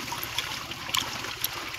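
Water trickling and splashing softly as meat is washed outdoors, a brief close gurgle with a few light drips and splashes, no voices.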